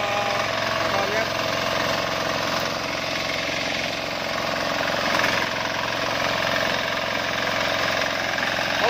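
A Sakura 188 diesel engine tiller runs in a field, rotary tilling the soil with a loud, steady, close chugging and rattling drone that continues without break.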